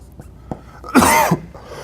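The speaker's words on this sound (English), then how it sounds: "I just have this cough that won't go away" A single sharp cough, loud and close, bursts out once in a quiet room, followed by a brief pause.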